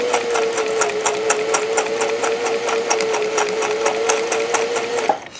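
Sewing machine fitted with a Schmetz universal triple needle, sewing decorative stitches with multicolored threads in one continuous, loud, close run with a steady motor hum and rapid needle beat, stopping abruptly near the end.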